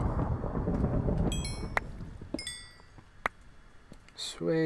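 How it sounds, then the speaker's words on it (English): A Minecraft thunderstorm rolls with low rumbling thunder at first, fading into rain, with a few sharp crackling strikes and chimes scattered through and a voice speaking near the end. "More thunder and lightning."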